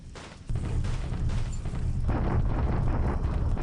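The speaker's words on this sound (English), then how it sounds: "Japanese bombarding Clark." Bombardment explosions in the computer war game War in the Pacific, a continuous deep rumbling barrage that kicks in abruptly and keeps rolling loudly.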